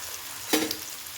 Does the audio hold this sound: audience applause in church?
no